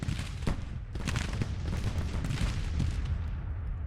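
Massed gunfire from a battle in the GT:TCW mod rattles on in close, dense bursts of sharp cracks and booms over a continuous roar, with no voices.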